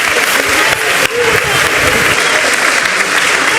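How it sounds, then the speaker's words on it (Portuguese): Church congregation at a Brazilian evangelical revival service applauding loudly, sustained dense clapping from a large crowd with a brief dip partway, then continuing strong. "Pode aplaudir mais forte, mais alto, mais forte, mais forte."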